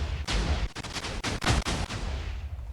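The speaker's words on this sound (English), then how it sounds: "that's a very big airstrike" Rapid, heavy explosions from an airstrike in a modded Minecraft game, a dense cluster of loud booming blasts and crackling bursts coming in quick succession with brief gaps between volleys.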